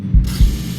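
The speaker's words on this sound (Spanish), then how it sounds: "La cámara hace este ruido." A Polaroid Snap instant camera prints a photo with a short mechanical whirring and ratcheting burst, loud and close, rising in two pulses over less than a second with no voices.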